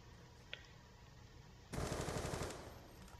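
Automatic gunfire in a first-person shooter video game, a rapid burst of shots lasting under a second after a single faint earlier shot, heard over a steady background hum.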